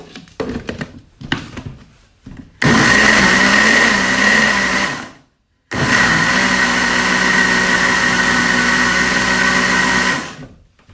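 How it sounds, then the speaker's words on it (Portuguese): A kitchen blender whirs sugar into carrot cake batter in two long, loud, steady bursts separated by a brief pause, after a few short scattered knocks at the start. "E agora eu vou colocar o meu açúcar pra bater aqui também. Vai fazer um barulhinho de novo."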